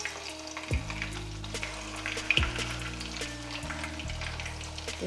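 Leftover rice manchurian balls fry in hot oil in a kadai, a continuous close sizzle and crackle broken by a few low clunks of a spoon turning them, with no voices.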